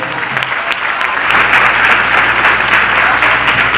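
Loud, sustained applause from an audience filling a room, dense and continuous clapping that swells slightly partway through.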